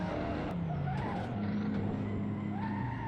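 A McLaren racing car in Assetto Corsa spinning out, with steady engine drone and a long tire squeal and skid running throughout at moderate loudness, mixed with other passing cars.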